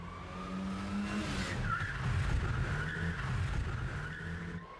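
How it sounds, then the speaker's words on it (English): A car doing a J-turn power slide, spinning through 180 degrees at high speed in a tight space, with tires squealing and skidding over a revving engine, moderately loud and continuous. "Russ will attempt the remarkable J-turn power slide, a manoeuvre that involves spinning a car through 180 degrees in a very confined space at high speed"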